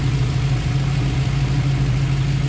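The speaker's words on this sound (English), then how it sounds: "Great sounding engine." A 1967 Chevrolet Nova L79 replica with a 327 V8 and solid lifters idles steadily, its deep low rumble loud and continuous with no talk over it.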